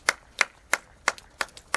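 Slow, evenly spaced hand claps from a congregation at a funeral, about six distinct claps in under two seconds, crisp and fairly close with no talk.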